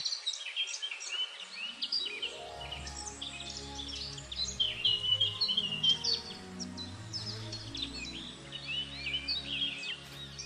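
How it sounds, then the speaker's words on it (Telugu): Birds sing in a forest, with bright chirps and trills that recur steadily throughout over a soft bed of low, sustained tones. "ఇక్కడ ప్రతిరోజు పక్షులు పాడుతుంటాయి"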